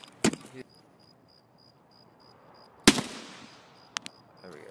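Gunshots in a video game, two sharp broadband cracks about two and a half seconds apart with a faint repeating electronic beep between them and smaller clicks after, fairly loud against a quiet background.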